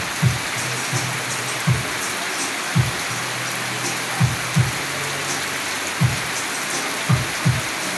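Heavy rain from typhoon Basyang pours in a constant loud hiss, with soft low thumps of drops or gusts landing every second or so beneath the steady downpour.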